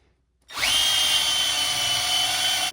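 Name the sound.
drill with wire wheel stripping paint from S10 wheel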